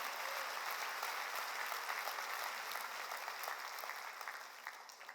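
Congregation applause during a church sermon: a steady, fairly faint wash of many hands clapping that holds evenly and thins slightly toward the end.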